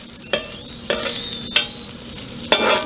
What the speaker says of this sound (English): that way it can get warm and fry a little bit